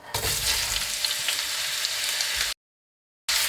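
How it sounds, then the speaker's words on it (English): Onions go into hot oil in a very hot pot for mutton karahi, giving a loud, dense, close sizzle that runs steadily and then cuts to silence before briefly resuming, with no talking. "get the pot really nice and hot and then straight in with the oil and then straight in with the onions"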